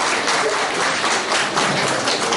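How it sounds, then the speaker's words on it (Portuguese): People applaud for the girls during a family celebration service at an altar, a steady wash of clapping filling the whole moment. "A salva de palmas para as meninas aqui"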